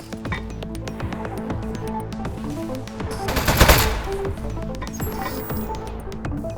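Shooting the desk gun in Aperture Desk Job, with quick rhythmic shots steadily repeating over tonal background music and a brief louder swell midway, and no voices.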